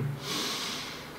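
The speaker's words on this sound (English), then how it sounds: "Deep breath in and push." A deep breath drawn in during a Krav Maga fundamentals exercise, a close, breathy inhale with a nasal snort-like onset, heard alone without talk.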